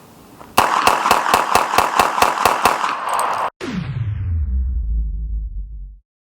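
Glock 17 pistol firing from a Glock brand Glockazine magazine: about a dozen loud, evenly spaced shots in quick succession, followed by a sharp final bang and a long fading ring-out into silence.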